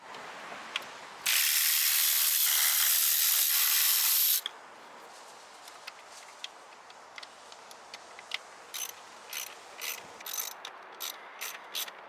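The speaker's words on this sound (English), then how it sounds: "You'll need to use a 1/4 ratchet and a T20 socket for the two hidden bolts." A 1/4 ratchet with a T20 socket works hidden bolts on the intake of a 2011-2017 Dodge Charger 3.6, giving a run of close, crisp ratcheting clicks after a burst of loud broadband noise.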